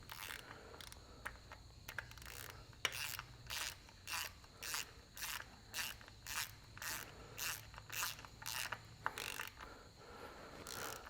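A ratchet wrench tightening bolts on a Massey Ferguson 65 tractor's rear crankshaft seal housing, a rapid run of evenly spaced clicking strokes, close and clear over a faint background, no talk.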